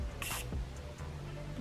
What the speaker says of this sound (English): I'm going to take a little bit of setting spray